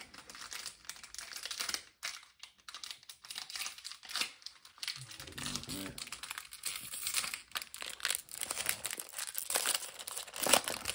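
Foil wrapper of a 2022 Topps Baseball Series 2 jumbo hobby trading card pack being torn and opened, with crinkling and tearing bursts spread across the span, close and fairly quiet, and no talking over it.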